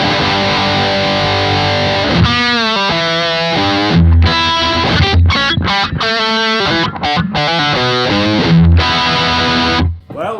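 A 2006 Gibson Les Paul Standard electric guitar plays loud, distorted riffs and sustained chords, with rhythmic chugging stops and bursts, close and alone without talk.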